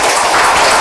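A church congregation applauding, a dense, loud, steady wash of clapping hands filling the brief moment.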